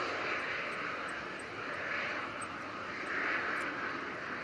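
An Emirates Airbus A380 touches down, its engines giving a steady, loud broadband roar with a bright hiss that holds through the whole stretch and swells slightly near the end, with no talk over it.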